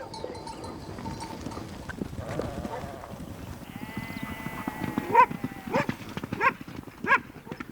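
Horses' hooves clop and sheep bleat while working dogs herd a flock on the windy Patagonian steppe, with a few sharper close calls toward the end over a steady background.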